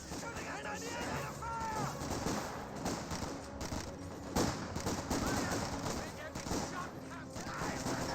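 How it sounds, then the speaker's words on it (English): Gunfire and a rifle grenade in a Company of Heroes 2 battle: rapid bursts of rifle and machine-gun fire with sharper blasts, running continuously under a commentator's voice. "Rifle grenade fired."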